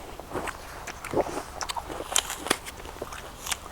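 Crisp, crunchy bites into a whole apple eaten skin-on, grown with sulfur in Cheongsong, Gyeongbuk, Korea; several sharp, close crunches and crackles spaced irregularly over a few seconds with quiet chewing between.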